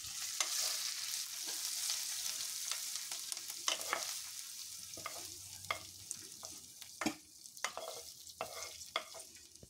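Mint and curry leaves fry in hot oil in a pan, giving a steady crackling sizzle broken by sharp scraping taps as a spatula stirs them, fairly close.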